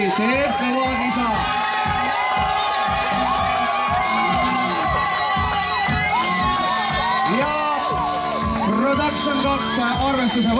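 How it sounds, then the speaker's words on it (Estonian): A rally fan club cheers and shouts loudly at the Rally Estonia podium prize-giving ceremony, a dense, sustained crowd roar with whoops and yells filling the whole stretch. "Ja Rainer Ausi fännklubi teeb kõva kisa"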